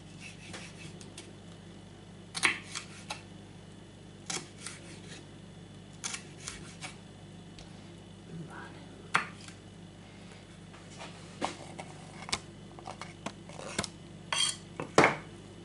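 Cutting by hand little by little, faint scattered clicks and snips over a quiet room hum, irregular small taps and one sharper click near the end, with no talk.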